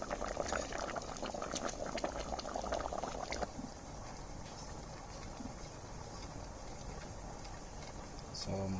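Maya-style beans from Belize simmering in a pot over an open fire give a steady, close bubbling boil, louder and busier for the first few seconds before settling to a softer, even simmer.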